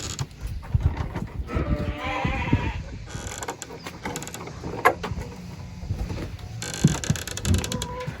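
Sheep bleat repeatedly in a farm workshop, their calls mixing with mechanical whirring and clattering from a spinning grinder and tools nearby.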